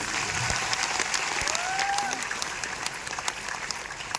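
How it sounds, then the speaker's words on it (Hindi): Enthusiastic applause for a professor and a doctor at a DXN gathering, a continuous crowd clapping that stays moderately loud throughout, with a brief faint vocal sound briefly rising over the clapping. "एक जोरदार ताली होनी चाहिए"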